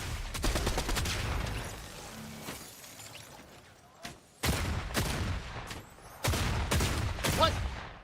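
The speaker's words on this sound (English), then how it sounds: "Ooh, ooh, they shoot me, they shoot me." Video game gunfire erupts in several heavy, close volleys of rapid shots, separated by short quieter gaps and a brief near-silence before the last two bursts.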